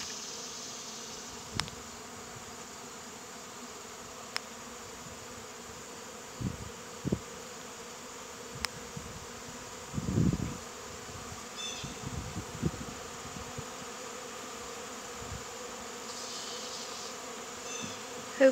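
Honey bee swarm buzzing steadily outdoors, a dense continuous drone with individual bees passing close in short louder bursts, no talking.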